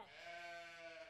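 A sheep gives one clear bleat at close range, a wavering voiced call lasting about a second with nothing else around it.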